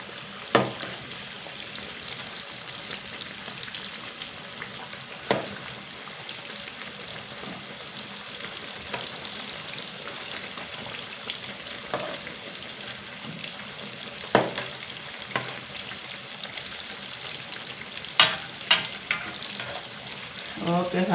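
Kue cucur badak fry in hot oil with a soft, steady sizzle that is fairly quiet and continuous, with occasional sharper crackles and pops and a few brief utensil stirring sounds.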